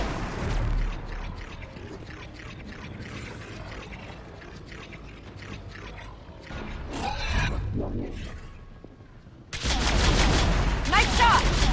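Rapid bursts of gunfire from a Mass Effect 3 battle against the Reapers on the way to Thessia, crackling steadily over game sounds and music, with heavier, louder volleys near the end and someone talking at times.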